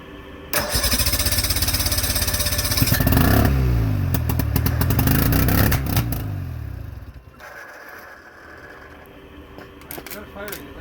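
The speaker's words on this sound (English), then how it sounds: "Now we just gotta throw some fuel in the carburetor and do a quick test fire." Chrysler 55 outboard boat motor test-fired after a magneto rebuild, loud rapid popping and clattering as it catches and runs unevenly, then dies down to quieter sputters, with people talking.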